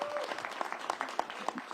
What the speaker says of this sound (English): Can we give our mayor another round of applause for all that she does?